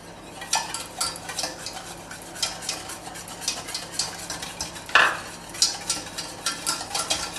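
Chocolate soufflé batter with flour and sugar being mixed in a bowl, a quick run of soft scraping strokes with occasional light clinks of the utensil against the bowl.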